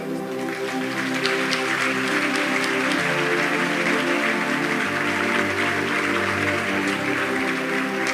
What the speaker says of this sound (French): On acclame pour nos pasteurs